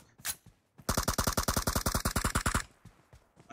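Gunfire in the mobile game BGMI: a single early shot, then a fast, evenly spaced burst of about twenty loud, close reports lasting under two seconds, followed by faint clicks.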